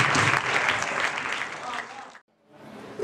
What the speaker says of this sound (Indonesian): Cukup beri tepuk tangan kepada mereka